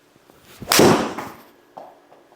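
A golf club strikes a ball into a SkyTrak+ launch monitor setup with a single sharp, close crack. A few faint knocks and rustles follow in the quiet afterward.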